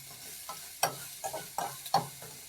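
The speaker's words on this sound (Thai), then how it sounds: "แล้วใส่ขิงผัดด้วยนะครับ แต่ใส่ไม่เยอะ" Ginger is stir-fried in a pan for ginger pork rice porridge: quick, rhythmic spatula scrapes, about five strokes, over a light sizzle, close and fairly loud with no talking.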